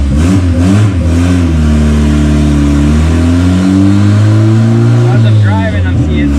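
A turbocharged Honda Civic 1.5 with an eBay turbo kit pulls hard under full throttle, its loud engine note rising steadily through the revs before a brief lift and shift, heard close from inside the car.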